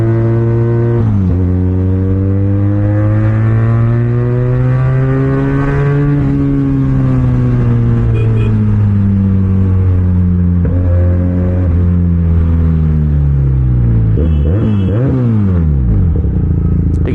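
An SRK 400 motorcycle engine is revved hard and close, its loud droning note climbing and falling through several throttle swells before dropping away near the end.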